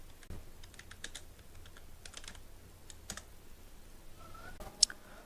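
Someone types a short search phrase on a computer keyboard, a quiet, close patter of separate key clicks in short bursts, ending with a sharper final press.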